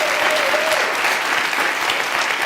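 Studio audience at a TV talk show clapping, with continuous, even applause from many hands, loud and full throughout.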